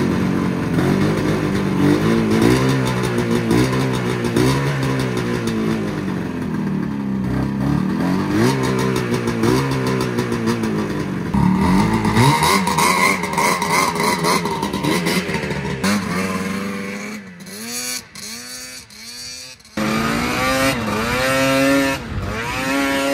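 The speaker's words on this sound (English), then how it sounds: "This thing is loud though when she's running." Carbureted BRP snowmobile engine running loud and close, revving up and down in repeated rising and falling sweeps with rough idle stretches and clattering between revs, no talk over it.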